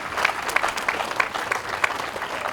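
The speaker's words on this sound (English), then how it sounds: "a big round of applause" A short burst of clapping from a small group, steady and fairly close, with no voices.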